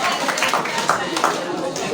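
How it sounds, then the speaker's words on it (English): High school students clapping at a school visit, a short burst of scattered, uneven claps close by, with chatter underneath. "Clap for them, please."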